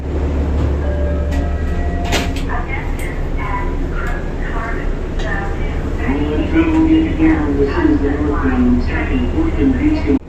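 An old, worn-out Metro North diesel passenger train rattles and rumbles loudly and steadily, with clanking and squealing tones through the ride.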